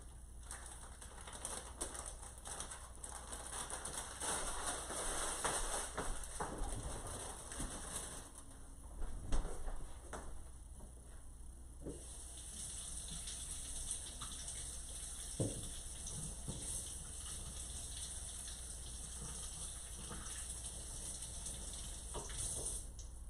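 Seeded grapes rinsed in a kitchen under a running tap, a steady close wash of water with splashing and faint clinks, birds chirping in the background.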